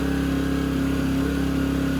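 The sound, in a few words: portable generator engine running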